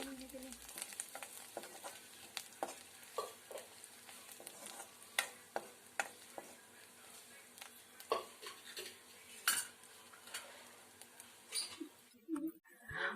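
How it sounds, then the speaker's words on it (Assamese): Taro stems tossed with turmeric powder are stirred in a pan, giving soft, close scraping and knocking strokes at an uneven pace over a faint background, ending with a louder clatter. "ইয়াতে হালধি গুড়ি দি আটাইখিনি মিহলাই দিছো।"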